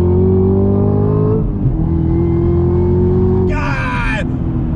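A Chevy Camaro ZL1 1LE accelerates hard in second gear on a highway, its loud engine droning in a rich, steadily climbing tone, with a brief higher surge of roar near the end.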